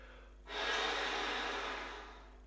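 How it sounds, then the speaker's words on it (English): Unvoiced air rushing through a saxophone, a steady breathy hiss starting after a brief pause and fading gradually, with no pitched note. "You will probably just hear air through the saxophone."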